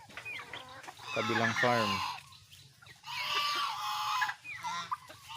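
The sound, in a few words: rooster clucking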